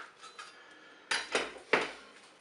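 A knife cutting cucumber slices into sticks on a board, three sharp chopping knocks near the end after quiet handling, close and crisp with no talking.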